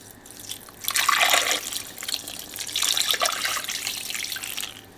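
Water pours from a tap into a cooking pot over meat being prepared for chimichangas, two loud, close bursts of splashing liquid with a short pause between them.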